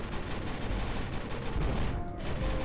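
Dense, rapid machine gun fire in the video game Kick Ass Commandos, a continuous rattling burst of gunshots, loud and close, with no talk over it.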